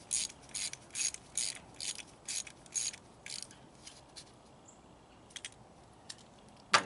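Ratchet clicking in short bursts as it turns a 10 mm socket on a stud of a VW Passat during spark plug work, rapid close clicks repeating several times, then pausing.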